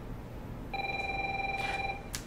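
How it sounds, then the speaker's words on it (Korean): An office telephone in a Domino's Pizza shop rings once with a steady electronic trill, fairly close and clear against a quiet room, with no one speaking. "전화 왔다."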